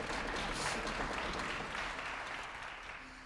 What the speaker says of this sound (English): could we get a round of applause for the wonderful cellos?